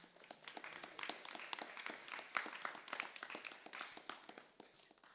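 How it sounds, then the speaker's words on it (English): Temple congregation applauds the pujaris for the deities' dressing at a Sunday feast: a soft, dense patter of many hands clapping at once, fairly distant and steady for several seconds, with no voices on top. "Let's give big round of applause to our pujaris for doing a very beautiful dressing."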